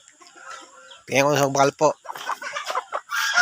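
Chickens at a Filipino poultry stall cluck loudly and repeatedly in close, harmonic bursts, with someone speaking before and between the calls.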